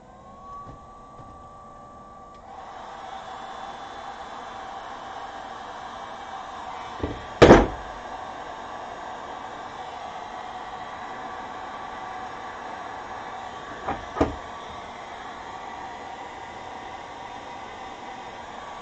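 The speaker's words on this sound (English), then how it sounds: "So we get our heat gun back on." A heat gun blows steadily on wire sleeving during a receiver upgrade, a constant airy hiss with a low hum that starts a few seconds in. A couple of sharp knocks stand out over the blowing.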